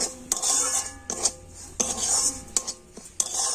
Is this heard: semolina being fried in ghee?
yes